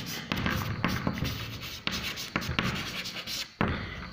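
A pen writes a list of lengths by hand, its close scratchy strokes coming in quick bursts broken by short pauses.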